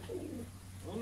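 Pigeons coo softly in short repeated phrases over a steady low hum, fairly faint and close.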